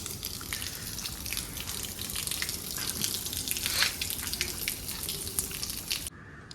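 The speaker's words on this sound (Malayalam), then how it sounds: "വെള്ളം ഇവിടെ വറ്റിക്കൊണ്ടിരിക്കുന്നുണ്ട് കേട്ടോ." Water drains from a home planted aquarium tank with a steady, close rushing and gurgling flow, with no voices, then cuts off abruptly near the end.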